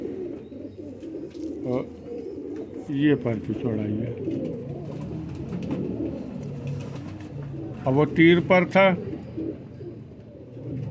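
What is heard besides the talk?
pigeons cooing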